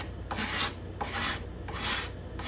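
A hand scraper works the spruce guitar top's bindings and purflings in four evenly spaced, rasping strokes, each a crisp scratchy sweep followed by a short quiet gap, heard up close with no voices.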